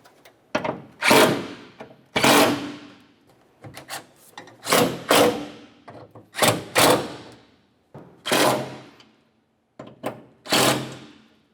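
Grille bracket bolts on a 1994-2002 Dodge Ram 2500 are snugged with a ratchet, repeated close rasping bursts of clicking ratchet strokes separated by short pauses.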